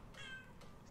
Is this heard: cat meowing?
yes